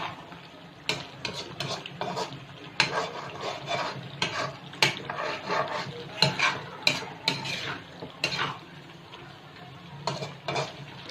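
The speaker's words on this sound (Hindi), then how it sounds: "तेज आंच पे सिर्फ भूनना है हमें इसे।" Beef qeema is stir-fried on high flame in a karahi: a low sizzle under frequent sharp scrapes and clatters of a spatula against the metal pan, in an irregular stirring rhythm.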